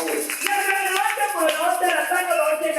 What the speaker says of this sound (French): Acclamons pour l'éternel.